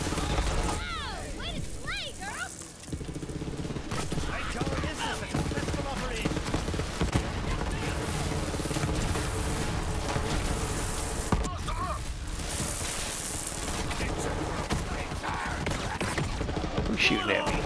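Gunfire in the video game Borderlands 3, with sustained bursts of shooting and crashing impacts running throughout under a busy game soundtrack and dialogue, loud and continuous.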